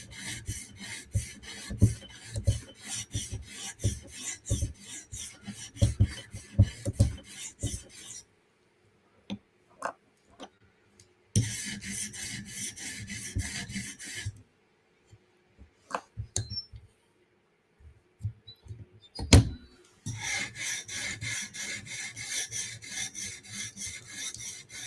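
A knife blade rasps in bursts of repeated strokes on a TSProf Kadet sharpener, with quiet gaps and scattered clicks between sessions.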